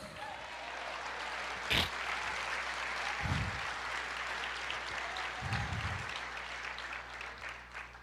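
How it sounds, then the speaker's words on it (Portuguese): Congregation applause during a church sermon, a steady wash of clapping heard at a moderate distance, with a couple of low thumps and a sharp knock cutting through. "Aplauda o Senhor"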